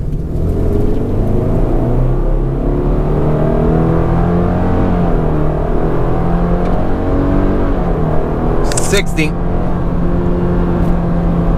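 A 2021 Subaru Crosstrek Sport accelerates hard during a 0-60 run, its engine drone rising steadily under a continuous loud road rumble, with a brief high-pitched burst near the end.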